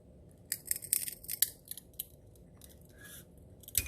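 Scissors snip repeatedly, a series of quiet, crisp cuts with uneven spacing, close up and alone, cutting pieces to equal lengths.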